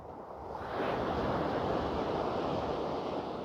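Ocean waves surging onto the shore, a broad rushing wash that swells after the first second and holds steady, with some wind noise and no voices.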